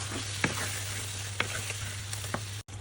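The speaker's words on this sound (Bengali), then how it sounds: "এবার মশলাগুলোকে ভালোভাবে নিচ্ছি, যাতে করে মশলা যেন পুড়ে না যায়।" Ground coriander and other spices frying in a pan with a steady sizzle, broken by a few sharp scrapes of a spoon as they are stirred so they don't burn.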